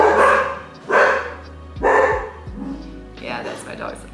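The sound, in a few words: dog barking loudly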